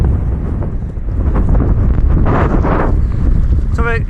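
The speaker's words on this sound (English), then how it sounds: "There's been no snow, but it's very windy." Strong wind buffets the microphone at Glenshee ski resort in Aberdeenshire, with no snow on the ground, a loud continuous roar throughout and a brief voice at the end.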